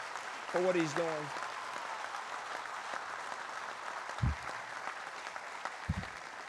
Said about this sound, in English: Give him a round of applause for what he's doing